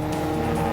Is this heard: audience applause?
no